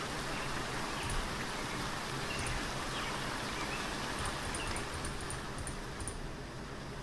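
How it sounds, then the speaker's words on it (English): Loud, dense rainfall in the video game Neo Scavenger hissing steadily throughout, with faint high chirps near the end. "It's raining, that's why. It sounds loud."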